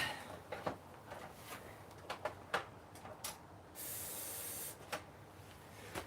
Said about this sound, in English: we're still going to try carb cleaner first and foremost.